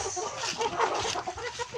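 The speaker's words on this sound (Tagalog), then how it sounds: "Ito natin mga manok." Several chickens cluck and murmur close by in short, uneven bursts.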